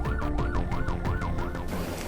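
Wailing ambulance siren sweeping up and down in repeated cycles, loud and close with traffic rumble underneath, as an ambulance carrying a patient passes a presidential motorcade on an Indonesian road.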